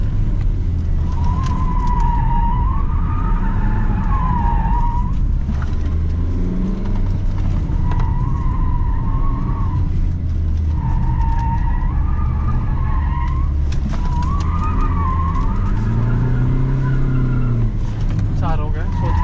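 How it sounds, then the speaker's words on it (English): The YAS3000 race car drives at Yas Marina Circuit in Abu Dhabi, its engine droning loudly and steadily throughout, with a rising and falling whine and tyre noise. People talk over the engine sound. "This is YAS3000. You can experience driving this car at Yas Marina circuit in Abu Dhabi."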